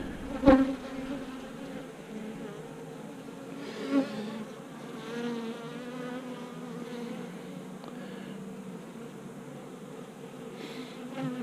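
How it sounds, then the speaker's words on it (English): Honeybees buzz steadily around a hive, a close, droning hum with wavering pitch and a few louder passes, with no talking. "these are laid back bees"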